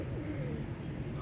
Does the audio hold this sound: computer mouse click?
no